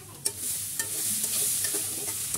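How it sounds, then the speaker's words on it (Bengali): Masoor dal lentils fry in a pan with a soft steady sizzle, broken by several sharp scraping clicks of a spatula stirring them. "খুব ভালো করে এভাবে একটু হালকা আছে আমি ডালটা ভেজে নিচ্ছি"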